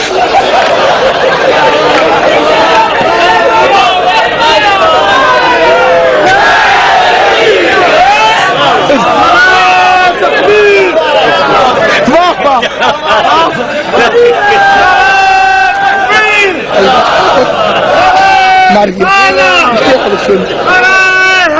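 A large crowd at a religious Jashan-e-Molood-e-Kaaba celebration chants slogans and cheers loudly and continuously, many voices overlapping in a dense, echoing roar.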